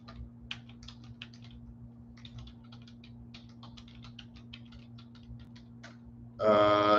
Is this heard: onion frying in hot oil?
no